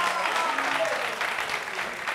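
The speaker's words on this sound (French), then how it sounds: "Ça s'applaudit." A studio audience at a French television game show claps in a brief, steady burst of applause.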